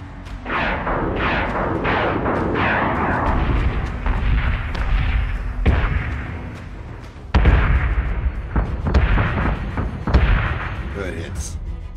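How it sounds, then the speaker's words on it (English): Missiles and ship weapons fire in the Battlestar Galactica Deadlock space battle game, sending out a rapid run of sharp blasts and heavy booms. Bursts of loud impacts cluster together with brief pauses between them, and a voice talks over parts of the barrage. "Missiles are reloaded, so let's shoot."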